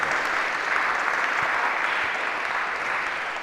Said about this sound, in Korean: 반가움의 박수